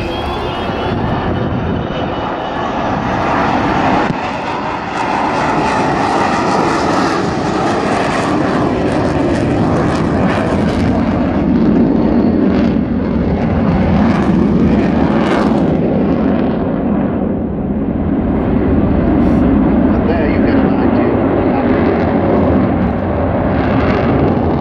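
An Avro Vulcan bomber makes a flypast with its undercarriage down at an air day display, a loud, sustained roar of jet engines that swells and rumbles steadily throughout without talk.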